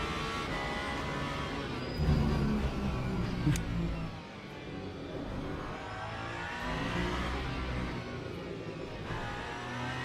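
A steady, droning engine note from the old LMP2 prototype race car in Le Mans Ultimate, held at high revs on the straight, with a brief rise in intensity and subtle gear shifts, no voices over it.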